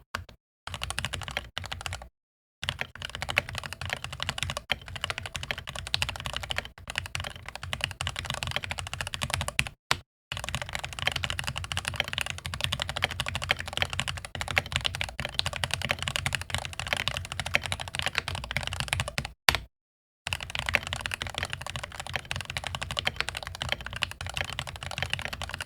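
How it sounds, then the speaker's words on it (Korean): Typing on a Keychron K8 Pro wireless hot-swap mechanical keyboard, a steady close-up stream of key clacks with brief pauses between bursts, heard alone without voices. "자, 이제 결합하고 가장 중요한 타이핑을 해보도록 하겠습니다."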